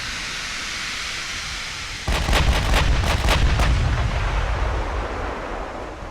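Battleship big guns firing in a naval video game, a sudden loud deep boom followed by a rapid cluster of sharp blasts over a sustained rumbling roar, no talk.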